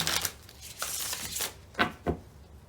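A deck of tarot cards is shuffled by hand in a series of quick riffling bursts followed by two sharp, close taps of cards settling, with no talking.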